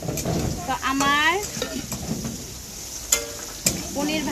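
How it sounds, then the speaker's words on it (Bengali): Paneer cubes frying in hot oil in a home kitchen, a steady close sizzle broken by stirring and a few sharp clinks of a utensil against the pan, with a voice speaking over parts of it. "পনিরগুলো ভাজা হয়ে গেছে তেলের মধ্যে।"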